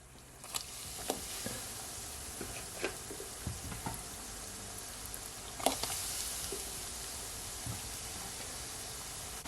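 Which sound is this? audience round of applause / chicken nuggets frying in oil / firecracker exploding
chicken nuggets frying in oil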